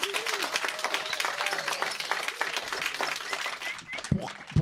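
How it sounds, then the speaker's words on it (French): Live audience at a public radio show recording claps in a lively burst, individual hand claps distinct within the crowd, with voices mixed in and the clapping thinning out near the end. "On est en public, donc j'aimerais bien qu'on commence par des applaudissements"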